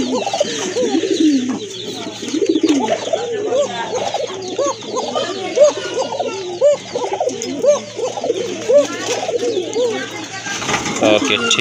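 Thin-throated pigeons at a pigeon market coo close by in a steady run of repeated, rhythmic calls for the whole stretch, with faint voices underneath.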